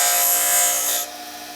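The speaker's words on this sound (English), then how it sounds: "grind a few little rings in it, just for grippiness" A steady, high-pitched grinding whine from a power grinder cuts rings into a metal bottle-cap impressing tool, loud and close, then drops off sharply about two-thirds of the way through.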